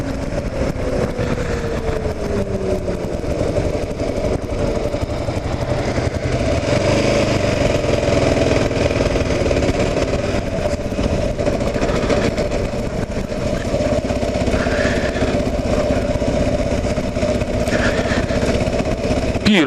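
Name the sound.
vehicle engine running during a ride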